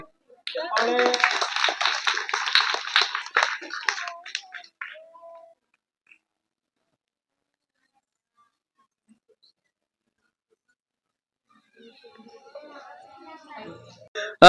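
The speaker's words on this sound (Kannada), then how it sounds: "ಚಪ್ಪಾಳೆ." An audience bursts into dense, sustained applause at a government primary school Independence Day felicitation event in Shantinagar, Tumakuru. It lasts about four seconds, then fades into silence, and faint voices return near the end.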